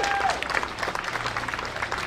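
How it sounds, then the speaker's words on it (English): A crowd at an outdoor rally at a Board of Education claps in a short, busy burst of applause, with some scattered voices mixed in. "Round of applause."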